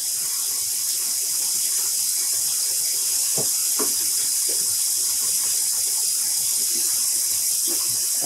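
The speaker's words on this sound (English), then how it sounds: "So we're adding some cold water." Cold water runs steadily from a tap into a pot being filled for dyeing yarn, a continuous hissing splash with no pauses and no voices.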